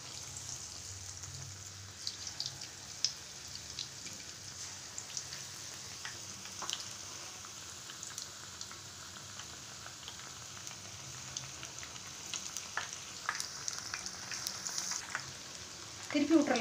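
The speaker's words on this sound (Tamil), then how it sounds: "இது இப்போ நல்லா மாவில் துவைச்சிட்டு காஞ்சிருக்கிற எண்ணெயில் போட்டுடலாங்க." Battered jackfruit bajji frying in hot oil, a faint steady sizzle with soft popping and crackling throughout, quiet and close, with a louder clatter at the very end.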